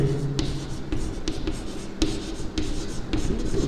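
Pen writing a symbolic logic statement on paper in a maths lesson, soft scratchy strokes with short taps and pauses, close and fairly quiet.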